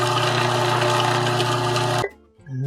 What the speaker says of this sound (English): we're bringing out Big Fred, the food processor